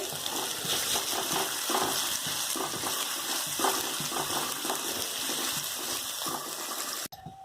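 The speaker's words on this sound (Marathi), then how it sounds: "तेल व्यवस्थित गरम झालं की आता आपण याच्यामध्ये कांदा टाकून घेऊया हा कांदा आपल्याला एक थोडासा गुलाबीसर रंग होईपर्यंत आपल्याला परतून घ्यायचा आहे" Chopped onion sautéing in hot oil for Mumbai-style ragda pattice, a steady, dense sizzle with stirring scrapes, close and loud throughout before cutting off abruptly near the end.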